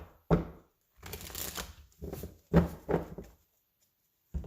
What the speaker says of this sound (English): you want me to shuffle 3 times